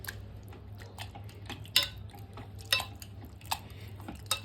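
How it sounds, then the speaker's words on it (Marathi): Cooked carrots for carrot halwa are mashed in a pot with a masher, producing soft squelching presses and a few sharp metallic clinks against the vessel, close over a low steady hum, without talk. "आपले हे जे गाजर जे आहेत ते छान असे शिजले आहेत मॅशरने आहे मॅश करून घेऊया हे गाजर"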